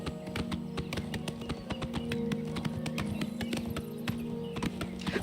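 Hooves clatter in a fast, steady galloping rhythm along a road in Oblivion Remaster, with a constant low droning hum of game ambience underneath and no talking.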